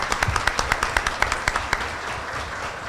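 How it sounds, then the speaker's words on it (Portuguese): A small group claps for an elderly woman at a municipal council session, the sharp individual claps coming at a brisk, fairly even rhythm for about two seconds before they die away into quiet room tone. "Uma salva de palmas aí para a Dona Fina."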